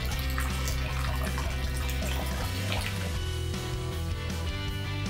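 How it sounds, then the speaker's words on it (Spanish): Water seeping and dripping over rocks in the Tehuacán-Cuicatlán Biosphere Reserve, a steady, close trickle and splash running throughout, with no voices. "La filtración de agua que cae sobre las rocas es bastante relajante de escuchar."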